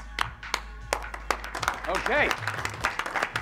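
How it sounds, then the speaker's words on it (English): A small group gives itself scattered applause at a knife-sales team gathering, with uneven, close claps mixed with voices and a short spoken word. "Give yourselves a round of applause."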